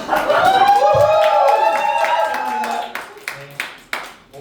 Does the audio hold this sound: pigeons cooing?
no